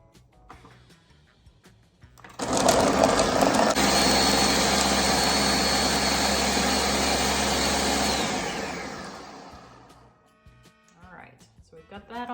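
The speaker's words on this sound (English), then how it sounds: "I'm putting all of this into my blender here. And I'm just going to mix this all up" A blender whirs loudly for several seconds mixing chocolate bread dough, starting abruptly, running steady, then winding down, with faint talk and kitchen noise before and after.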